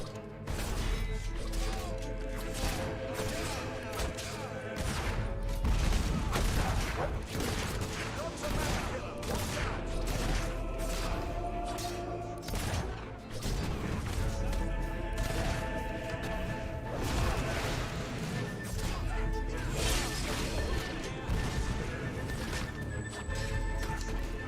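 Mortar explosions and crashes in the video game Fable 3 form a dense, continuous barrage of booms and smashes, mixed with horse whinnies and other game noise.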